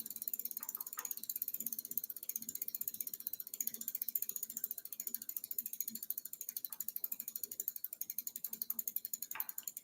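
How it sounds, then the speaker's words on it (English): A screwdriver turns the adjuster screw on a Schwinn bicycle derailleur, making a steady run of quiet, evenly spaced ratcheting clicks close up, about ten seconds long, with nobody talking. "Let's run this adjuster in. If I have a screwdriver, that'll fit it."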